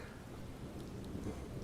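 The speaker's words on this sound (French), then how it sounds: "tu entends l'orage, vous l'entendez tous, hein, la pluie recommence à tomber de rue." A thunderstorm with rain falling: a steady hiss of rain over a low, rolling rumble of thunder, with no voices.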